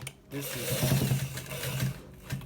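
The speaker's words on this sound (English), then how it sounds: "this is a double neck stitching" A sewing machine runs a double row of stitches along a shirt neckline, a steady close mechanical whirr that speeds and slows in short bursts, with a brief pause near the end before it starts again.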